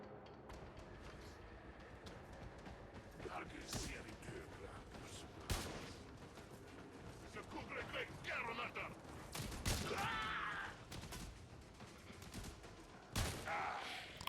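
Weapon gunfire in the video game Warframe comes as scattered shots and short bursts amid mechanical game effects, with a person talking throughout.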